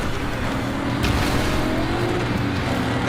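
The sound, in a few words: car engine revving during chase, from video game Cyberpunk 2077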